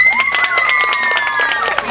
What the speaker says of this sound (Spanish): Ah, hay aplausos, ¿verdad?